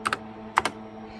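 Four quick clicks from a TRS-80 Model 16 computer keyboard, two pairs of close, crisp keystrokes separated by a short pause, over a low fan hum.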